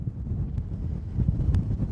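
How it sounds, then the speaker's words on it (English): Strong wind from Storm Isha, gusting up to 107 mph on the coast of Scotland, buffets the microphone in a constant low roar with gusty rumbling and a couple of faint clicks. "Well, it's still extremely windy here"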